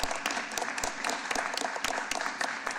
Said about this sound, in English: Round of applause for our mayor.